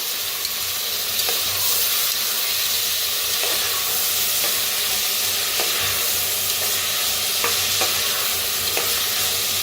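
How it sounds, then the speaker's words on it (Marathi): Coriander, tomato and peas roast in a hot pan with a steady, continuous sizzle and hiss, punctuated by occasional scraping clicks of stirring, close and loud throughout with no talking. "आता इथं घेतलेलं आहे कोथिंबीर आणि टमाटो आणि मटर. सगळं भाजून घेऊया."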